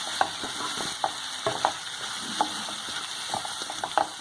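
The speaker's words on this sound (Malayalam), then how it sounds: "അപ്പോൾ കുറച്ച് നേരം ഒന്ന് ഇളക്കണം." Soya chunks stirred with tomato and onion in a frying pan: repeated close scraping strokes of a spoon against the pan over a steady low sizzle, irregular but continuous.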